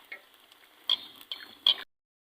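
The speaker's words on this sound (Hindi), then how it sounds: "इसी हल्की आंच पे जो है दोनों साइड हम इसे अच्छे से फ्राई करेंगे" Bread kofta frying in hot oil over a low flame, giving soft, intermittent sizzles with a few brighter crackling bursts that then fall silent.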